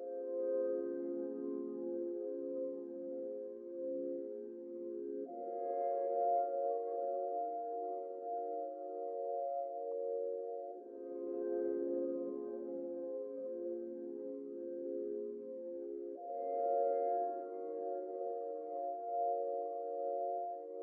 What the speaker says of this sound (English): So the second stem he sent me was this like atmospheric pad that just gives a nice element to it.